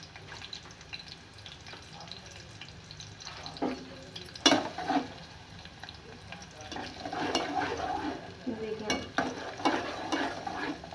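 Onions frying in a pan while being stirred, a soft continuous sizzle with scraping strokes and a louder clatter partway through, growing busier toward the end.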